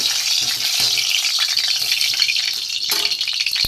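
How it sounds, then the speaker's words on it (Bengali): Hot oil sizzles and crackles steadily in a kadai (wok) while being stirred, with a brief scrape of the utensil near the end; close and continuous, no talking. "বন্ধুরা কড়াই বসিয়ে তেল গরম হয়ে গেছে, তেলটা একটু নেড়ে দেবো।"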